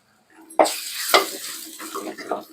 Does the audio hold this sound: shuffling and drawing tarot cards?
no